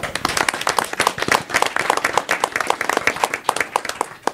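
A round of applause at a county commissioners meeting in Pitt County, a room of people clapping steadily and fairly close for several seconds, with dense overlapping claps throughout.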